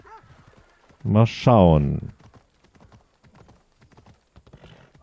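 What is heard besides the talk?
horse hooves while riding in the video game Assassin's Creed Odyssey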